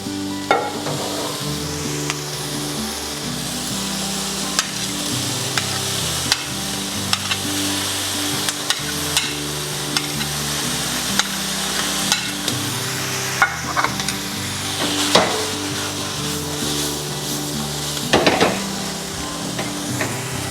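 Pork, vegetables and tomato sizzle and fry steadily in a pan for the Filipino dish pinakbet, with frequent scrapes and clacks of stirring over a continuous loud hiss, close up and with no voices.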